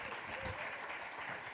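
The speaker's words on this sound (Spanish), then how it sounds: "Un aplauso para Nayara Malabé" An audience at a tourism talk event in Gipuzkoa applauds in a brief, dense burst of many hands clapping at once, steady and moderately loud throughout.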